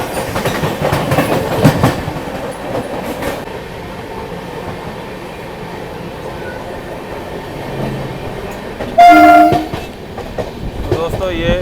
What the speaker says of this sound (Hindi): अब इसके बाद में अपनी ट्रेन चलेगी 130 की मैक्सिमम परमिशन स्पीड पर